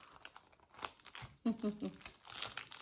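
A plastic sleeve crinkling close up in short, rustling bursts, with soft talking around it.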